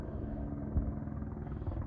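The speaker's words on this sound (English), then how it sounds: "That's a BLM chopper. He's flying over dropping the seeds." A BLM helicopter flies overhead while dropping seeds across a mountainside, giving a steady, dense rotor rumble that holds at an even level throughout.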